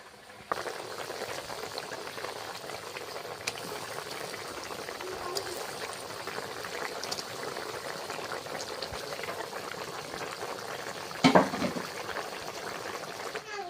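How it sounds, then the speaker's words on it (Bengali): A village pumpkin curry simmering in a pot before fish is added, a steady soft bubbling hiss throughout with a brief louder clink or splash near the end. "তরকারিটা আমার ফুটছে তো এবার আমি মাছটা দিয়ে দেবো"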